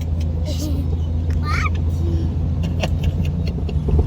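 Jeep XJ crossing a patch of very soft sand on a reservation trail in four-wheel high, its engine drone steady and close throughout, with people talking over it.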